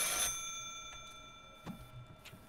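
An old telephone bell rings inside a house in a Bigfoot video game, a bright metallic burst at the start that lingers as a fading ringing tone, with faint knocks and clicks after it.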